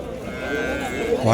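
Cattle at a livestock market in Vaniyambadi, mostly Jersey and HF cows, with a low moo rising near the end over a busy background murmur in the early morning.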